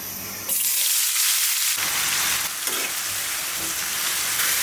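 Vegetables hit a hot pan and burst into a loud, close sizzle that keeps crackling steadily, with a brief dip and a stir partway through.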